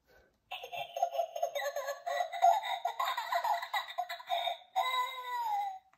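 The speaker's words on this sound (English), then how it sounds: "Peppa and George get out their musical toys and make a" Children's musical toys are played together in a bright, jangly burst of bells, squeaky tones and electronic jingles, fairly faint, overlapping and continuous for a few seconds before breaking off briefly and resuming.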